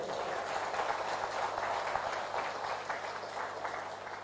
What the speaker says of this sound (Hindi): डॉक्टर लिम सियोजन, उनके लिए एक हाथ ताली हो जाए